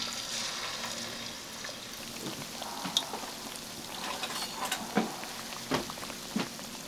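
Flour-coated fish fries in oil over medium heat, giving a steady sizzle with scattered sharp pops and crackles. The sound is close, continuous and unaccompanied by voices.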